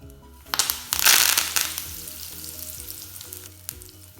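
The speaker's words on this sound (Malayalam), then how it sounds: "എണ്ണ ചൂടായിട്ടുണ്ട് കേട്ടോ. അതിലേക്ക് നമുക്ക് കുറച്ച് കറിവേപ്പില ഇട്ട് കൊടുക്കാം." Curry leaves crackle and sizzle as they drop into hot coconut oil, a loud burst of spitting near the mic that settles into a steady frying hiss over low background hum.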